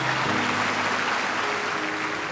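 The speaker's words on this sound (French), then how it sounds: "Le rideau s'ouvre sous un tonnerre d'applaudissements." Applause fills a New York cabaret hall as the curtain opens, a dense, steady wash of clapping held at an even level for a couple of seconds with a faint tonal hum beneath.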